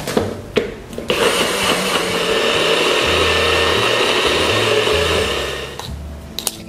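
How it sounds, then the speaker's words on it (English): A food processor whirs loudly for several seconds as it grinds granulated sugar into fine icing sugar, the gritty motor roar building, holding steady, then spinning down, with no talking. "these two are gonna go into our food processor"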